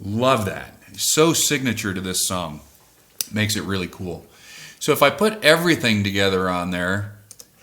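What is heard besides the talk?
No everyday noises stand out.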